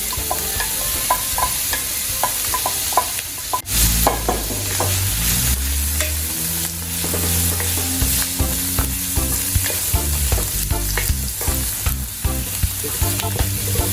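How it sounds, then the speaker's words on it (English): Garlic hits a pan of half-cooked sweet onion and fries with a strong steady sizzle, while a spatula stirs and scrapes through it repeatedly, close up and with no talking. "Onion is also half cooked. Now we're gonna add our garlic."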